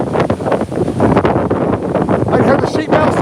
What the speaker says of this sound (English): Winds are well over 80, gusts to 100 at times.